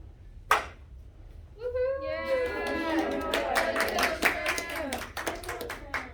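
A group of people clapping and cheering in support, beginning with a single sharp clap and then building into a long, lively stretch of claps, whoops and excited voices.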